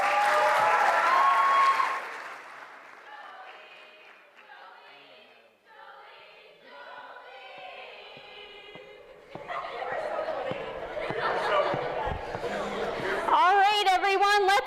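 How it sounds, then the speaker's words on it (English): Audience applause at the LDTV awards ceremony, a moderate burst of clapping that fades, then swells again loudly toward the end alongside voices and cheering. "let's have another round of applause for our demo reel winners and all of our winners so far."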